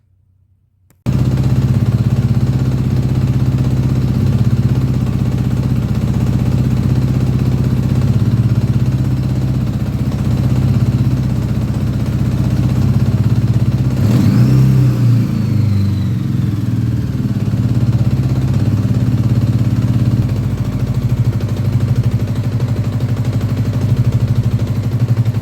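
A 1983 Honda GL1100 Goldwing engine runs steadily near and loud for the whole stretch, with an uneven, missing beat throughout and a brief surge partway through. No one speaks.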